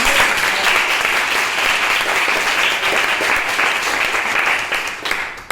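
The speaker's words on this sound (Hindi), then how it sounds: "एक बार जोरदार तालियां बजाइए" Loud, sustained applause from a seated audience, many women among them, welcoming a new session on grooming tips for women; dense steady clapping that holds for several seconds and tapers slightly at the end.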